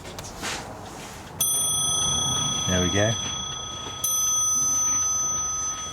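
A bright porcelain clock bell strikes twice with a long ringing decay, a brief spoken phrase between the strikes.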